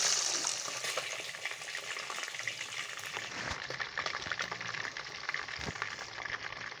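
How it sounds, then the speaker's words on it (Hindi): Fish pieces frying in a pan for a fish curry, a steady, dense sizzle with crackling pops that holds throughout at moderate loudness, with occasional stirring or shifting sounds and no talking. "दो तीन मिनट जो है वो मैंने इस साइड से भी फ्राई की है"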